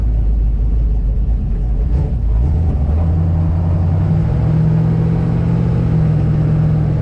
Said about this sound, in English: It accelerates pretty good.